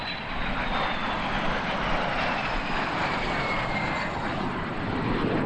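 Silver Star jets flying in trail formation at an airshow roar past as a loud, steady broadband jet rush with a faint descending whine, no voices present.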